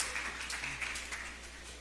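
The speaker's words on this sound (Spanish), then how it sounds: "Démosles un aplauso, por favor." Brief, faint applause from a church audience honouring the actors, a soft patter of clapping with no talk over it.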